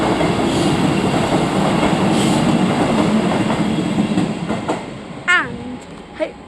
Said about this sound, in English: Could be a freight train actually. It's going fast.